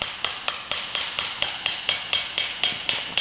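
A hammer gives light, evenly spaced taps on a Vespa P200 engine part during engine assembly with Malossi cases, about a dozen crisp metallic strikes in a steady rhythm, close and clear with no talking.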